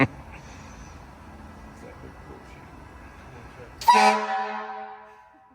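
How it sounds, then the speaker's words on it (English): Quiet rumbling background, then a single loud, deep blast from a fire engine horn that rings out and slowly fades. "He can honk the horn if he wants. Now honk the big one."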